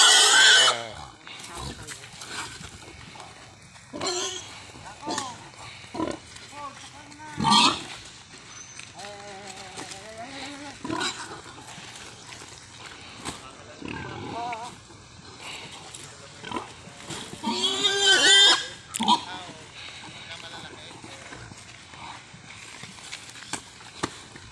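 A piglet on a pig farm squeals and grunts in bursts while being tied up, with loud shrill cries near the start and toward the end among scuffling and shouting in the background.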